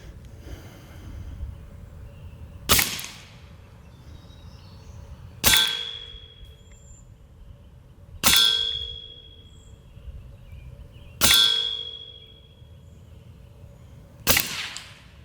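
Five sharp cracks from a Western Airgun Mordax PCP pistol firing JTS pellets at a target, evenly spaced about three seconds apart, each a loud crisp snap with a short metallic ring, over quiet room tone and no talk.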